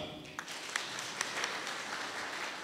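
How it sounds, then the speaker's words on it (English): A wedding crowd claps for a newly married couple, a steady, fairly soft patter of many hands heard from a little distance, with a few sharper claps popping out. "Give them a clap."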